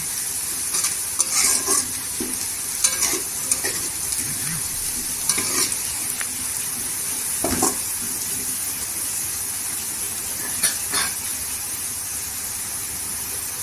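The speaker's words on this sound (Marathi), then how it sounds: "एक 5-10 मिनिटं तरी असं तेलावर परतून घ्यायचं।" Onions frying in oil for a dried shrimp curry, a loud continuous sizzle with repeated stirring scrapes and clacks of the spatula, close up and steady with no voices.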